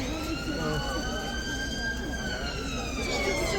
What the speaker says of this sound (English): That's an ambulance.